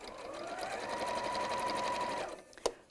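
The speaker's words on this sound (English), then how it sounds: "I'm sewing with the seam just on the top" A domestic sewing machine runs a lengthened decorative stitch along the top of a seam on a fabric bag, a steady fast whirring hum for about two seconds that then slows and stops with a small clunk.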